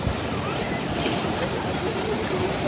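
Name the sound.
sea waves at Digha beach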